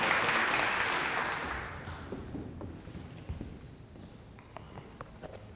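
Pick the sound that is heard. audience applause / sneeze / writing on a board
audience applause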